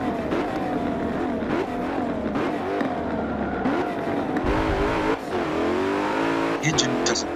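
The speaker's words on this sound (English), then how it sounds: "So here we are in the Koenigsegg Agera." Koenigsegg Agera engine droning steadily with rising and falling revs, tires on the Long Beach track in Forza 7, loud and continuous, with a voice talking over it.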